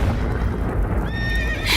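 Horses neigh in a stable fire, one loud close whinny rising out of dense rumbling commotion with hoof clatter beneath, ending in a sharp burst of noise, all within under two seconds with no talking.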